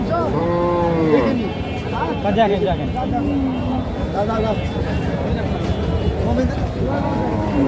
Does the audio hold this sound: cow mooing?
yes